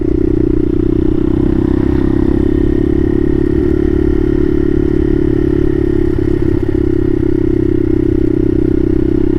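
A Bashan Motomax 250 supermoto motorcycle ridden on the street gives a steady, loud engine drone with a constant low hum and some clatter throughout, no speech.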